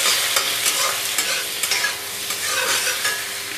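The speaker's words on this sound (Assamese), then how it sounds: "আৰু এতিয়া ভালদৰে লৰাই দিছোঁ" A spoon stirs katla fish curry spices, salt and turmeric, in a hot pan, with repeated scraping strokes over a steady bright sizzle of frying.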